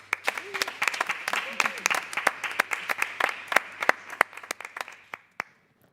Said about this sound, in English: I'd like a very hard applause for the committee.